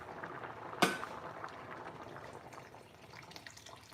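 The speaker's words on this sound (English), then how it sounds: "Can you hear that beautiful bubble?" A pot of cauliflower curry bubbles softly on the stove, faint irregular pops and simmering gurgles with one brief sharp tap early on, no voices.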